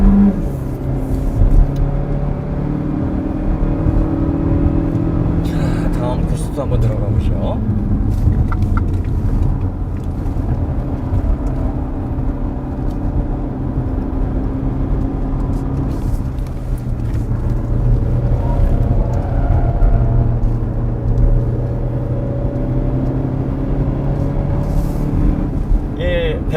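Renault Samsung XM3 with a 152 hp engine driving on a test course, a steady engine and road drone with wind noise running throughout, under someone talking.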